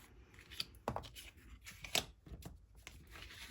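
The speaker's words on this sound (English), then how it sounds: "I'm going to cut that DSP piece with you" Scissors snip through a piece of patterned designer paper for a card kit, several quiet crisp cuts in an uneven rhythm, close up with no voices.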